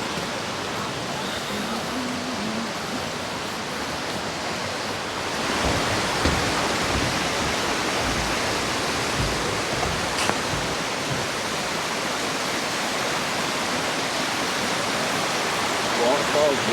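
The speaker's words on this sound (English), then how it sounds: "Waterfalls, wicked, isn't it?" A waterfall in a garden beside a mill, rushing water heard as a constant broadband hiss that grows a little louder partway through, steady and close, with no voices.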